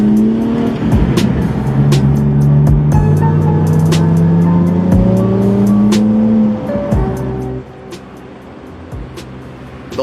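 A Holden VE Commodore with a gapped exhaust drives nearby, its loud engine droning and slowly rising in pitch under acceleration before easing off and dropping to a quieter idle-like rumble.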